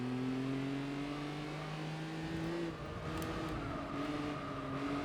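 A Nissan Skyline races a license test in Gran Turismo 4, its engine a close, continuous drone that holds a steady pitch, dips briefly, then climbs again, with no voices.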